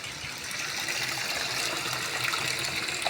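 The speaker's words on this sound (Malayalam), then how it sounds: "ഞാനൊന്ന് വാഷിംഗ് മെഷീനിലെ വെള്ളം ഒന്ന് ഓഫ് ചെയ്ത് വെച്ചിട്ട് വരാം." Water runs steadily into a washing machine in a home kitchen area, a constant close gushing hiss with no breaks and no voices.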